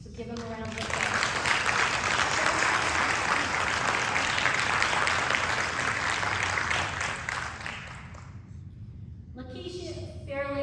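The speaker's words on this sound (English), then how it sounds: "give him a round of applause" Audience applause fills a high school auditorium at a Wall of Fame induction ceremony, steady and dense for about eight seconds before fading out, with a voice resuming over the tail end.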